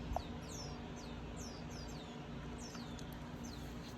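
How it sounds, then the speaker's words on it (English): Birds chirp outdoors in a garden by sunflowers, in repeated short, high downward-sweeping calls over a steady low background hum. "You hear those birds?"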